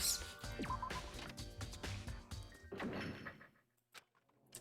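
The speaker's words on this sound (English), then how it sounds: "As soon as the door to the data center was closed, I heard a strange sound." A door closing in the Danganronpa video game, a heavy sliding thunk and mechanical clunk over game music that cuts out, followed by a couple of faint isolated clicks as it locks.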